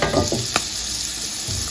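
Butter melting and sizzling in a pot just after shrimp has been taken out, a short close hiss with a couple of sharp crackles at the start, fairly loud and steady.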